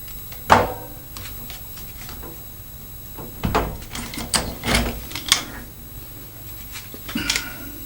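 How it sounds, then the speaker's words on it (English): An olive puller works a crimped olive and nut off a radiator pipe during a radiator valve change, giving sparse sharp metallic clicks and taps, close and clear over a quiet room. "So I'm going to use the olive pull off, because these are crimped on here."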